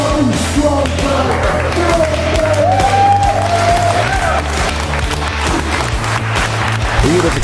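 Loud, sustained audience applause with clapping, yelling and cheers for a strongman at a gym bodybuilding competition, steady throughout with a low musical beat underneath.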